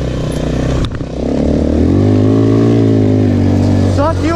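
A motorbike and a quad bike idle and rev on a muddy jungle trail, a loud, close, steady engine drone with one brief dip before it builds again.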